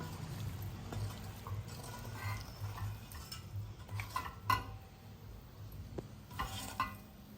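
A spatula stirs and scrapes chicken fry with fresh coriander in a pan, over a steady low sizzle, with soft repeated taps and scrapes.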